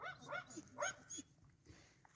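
A frozen female dog whimpering, a few high, wavering whines close by, followed by quieter breathy pauses and faint background noise.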